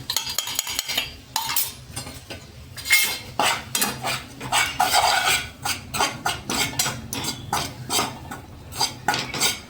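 A spoon scrapes and stirs flour roasting in two spoons of oil in a pan for stuffed chillies, with a rapid run of close, clattering metal strokes and soft sizzling beneath.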